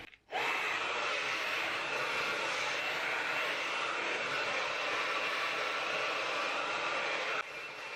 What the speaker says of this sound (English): I always like to do it on high heat, high power, and particular focus on the roots and dry my hair